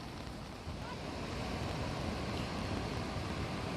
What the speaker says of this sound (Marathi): भरपूर अशी फुल नदी चाललेली आज